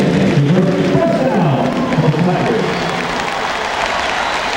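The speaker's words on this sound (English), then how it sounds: "You hear the crowd clap hands because they get that first down." College football stadium crowd at Mississippi State versus LSU applauding after a first down, dense continuous clapping and crowd roar that holds steady, with a voice talking over it early on.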